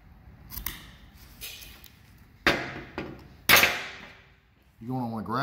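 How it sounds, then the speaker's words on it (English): Scissors snip through 3/8 paracord rope while drifting weights are made, with several sharp cuts spread across the moment, one louder than the rest, and a short voice-like sound at the end. "Make sure you cut enough rope."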